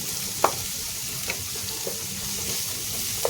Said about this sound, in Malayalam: ബട്ടർ ഇട്ട് കൊടുക്കുന്നുണ്ടേ അതിനുശേഷം വെരി സ്മോളായിട്ട് കട്ട് ചെയ്ത് ഒരു ചെറിയൊരു സവാള അതിനകത്തേക്ക് ഇട്ട് കൊടുക്കുന്നുണ്ട്